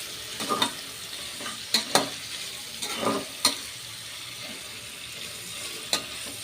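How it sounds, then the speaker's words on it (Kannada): Chopped vegetables sizzle in hot oil in a pan, with a soft continuous frying hiss broken by several sharp spoon clanks and scrapes at uneven intervals. "ಈಗ ಎಣ್ಣೆಲಿ ಬೇಯಕ್ಕೆ ತರಕಾರಿ ಹಾಕ್ತಾಯಿದ್ದೀನಿ"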